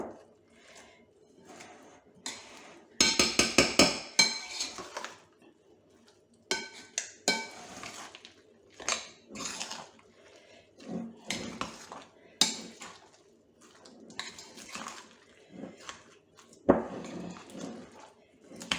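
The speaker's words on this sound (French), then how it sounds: "Je vais bien mélanger." Vegetable cake batter stirred and mixed in a bowl, with clinking utensil scrapes against the dish in irregular bursts, a louder clattering flurry early on, close up and alone.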